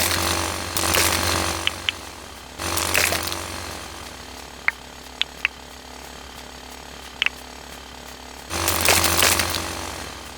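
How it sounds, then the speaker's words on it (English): Rocks are drilled in the Dinkum video game: a loud mechanical drill rattles in three bursts separated by quieter stretches, with a few sharp clicks and chimes between them. "drill a few more of these rocks"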